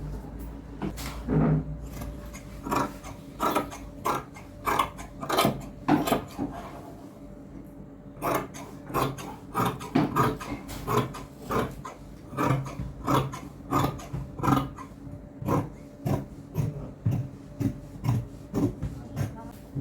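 Tailoring scissors snip through fabric while cutting out a dress top, crisp cuts repeating in a steady rhythm at close range, with a faint voice now and then.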